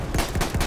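Gunfire in the Battlefield 1 video game, a short dense burst of shots that are loud and close, with no talking.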